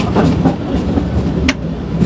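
The Shivalik Deluxe Express moving train rumbles steadily, with rhythmic clickety-clack of wheels over rail joints and a low carriage hum, loud and close.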